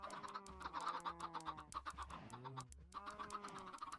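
Chickens in Minecraft clucking repeatedly, a steady stream of quiet overlapping clucks with no talking.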